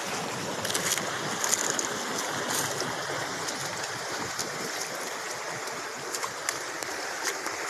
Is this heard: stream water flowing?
yes